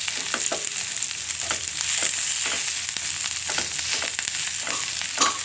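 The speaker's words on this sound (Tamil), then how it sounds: "ஒரு 10 செகண்ட் வதக்குங்க பச்சை மிளகாய்" Green chillies sauté with softened onions in a hot pan: a continuous bright sizzle punctuated by repeated spatula scrapes and taps as they are stirred, close and fairly loud.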